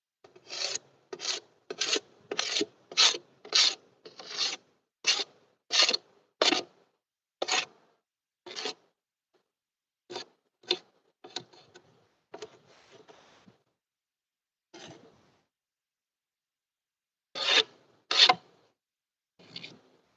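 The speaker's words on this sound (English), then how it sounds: "I'm gonna scrape those off." A tool scrapes ants off wooden beehive boxes in a series of short, crisp rasping strokes, quick and rhythmic at first, then sparser with pauses, close and fairly quiet.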